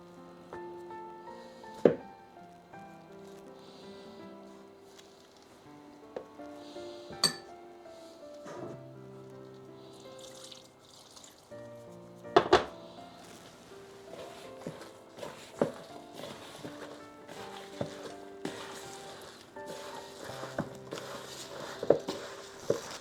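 A spoon clinks and scrapes against a bowl as gram flour pakora batter is stirred, giving intermittent light metallic taps and knocks at close range, with a few sharper clanks between softer wet stirring.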